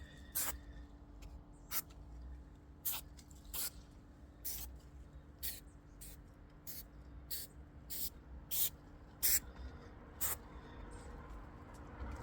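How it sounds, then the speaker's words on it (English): Spray adhesive misted onto paper window covers inside a minivan, about a dozen short, sharp hissing bursts at irregular intervals over a low steady hum. "Give it just a little spray, just to hold it down."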